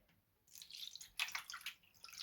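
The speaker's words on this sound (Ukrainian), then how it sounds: "я налю отаку кружечку води, ось таку, наливаю" Water is poured from a small mug onto a metal baking tray in a home kitchen, a faint close trickle and splash in two short bursts with a quiet pause between.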